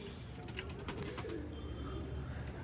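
Pigeons coo softly in a group, their low, repeated throaty calls fairly distant beneath a steady background hiss, with no one speaking.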